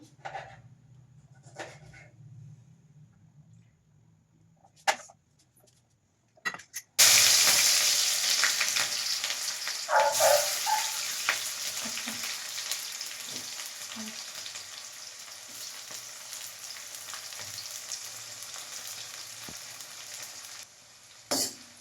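Onion dropped into hot oil in a kadhai for pulao, cooking outdoors at a farm: after a few quiet knocks, a loud sudden sizzle bursts in and keeps frying steadily with occasional stirring scrapes.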